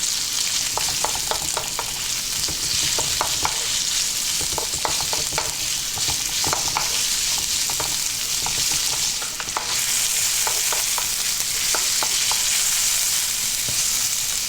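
A cup of white onion fries in a pan with a constant loud, close sizzle, punctuated by repeated light clicks and scrapes of stirring throughout.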